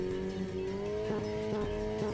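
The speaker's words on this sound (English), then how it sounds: "The sound of a powerful engine shook the underground air." A powerful car engine growls in a sustained, loud drone with rising harmonic tones and rhythmic surges, heard up close and constant throughout, in a Steins;Gate 0 game scene set underground.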